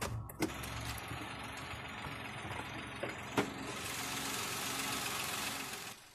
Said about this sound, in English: This 107 is powered by a 1-liter, dual overhead cams, 12 valves, naturally aspirated inline 3-cylinder engine.